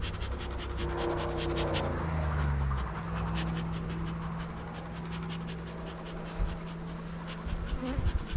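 Honeybees buzz close around a beekeeper's face while nuc splits are being made outdoors, a steady swarming drone with wind noise, no talking.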